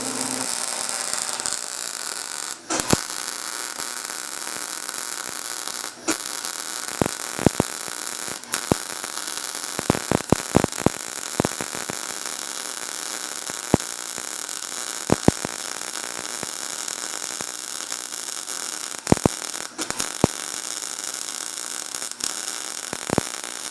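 A 130 amp Clark welder running on a hydraulic floor jack under refurbishment, giving a steady, loud crackling hiss with scattered sharp pops and snaps throughout.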